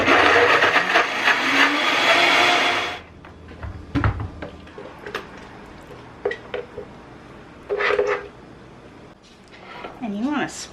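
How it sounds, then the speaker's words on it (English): A blender whirs loudly for about three seconds, mixing a pear cobbler topping sweetened with honey or maple syrup, then cuts off, leaving scattered scraping, tapping and squishy utensil sounds with brief speech. "You wanna blend this up really, really good."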